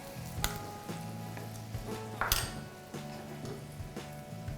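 Pounded curry paste hits hot coconut milk in a pan with a soft sizzle, scraped and pressed with a spatula in a few distinct strokes over low background bubbling.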